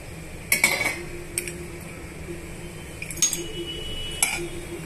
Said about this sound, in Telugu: కాసేపు అటు ఇటు వేయించుకోవాలండి.